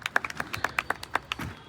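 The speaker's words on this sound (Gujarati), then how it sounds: "એકવાર જોરદાર તાળીઓથી આપ સૌને બતાવશો." An audience at a gathering of YouTubers claps in a scattered, uneven burst of sharp hand claps, moderately near and fairly quiet overall, with no voices over it.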